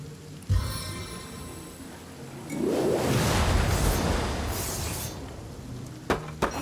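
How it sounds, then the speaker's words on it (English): A rain spell cast in the fantasy role-playing game Divinity Original Sin: a sudden whooshing burst swells into a dense, steady patter of falling rain that lingers for several seconds before fading, with a few sharp clicks at the end. "Water, rain down!"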